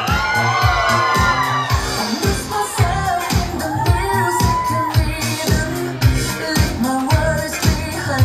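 An audience cheers, whoops and screams at a children's locking dance class summer showcase in a dance studio. The loud, continuous crowd noise rides over a steady, pulsing music beat.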